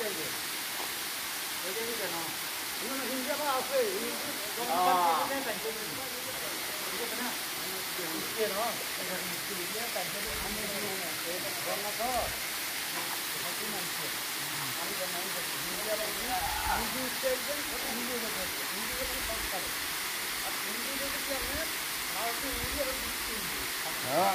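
A constant broad rush of falling water from a hill-trail waterfall running lower than in monsoon fills the scene, steady and enveloping, with people talking over it.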